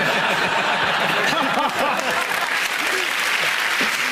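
A television comedy panel show's studio audience breaks into loud applause mixed with laughter and cheering, a dense close crowd roar filling the whole stretch.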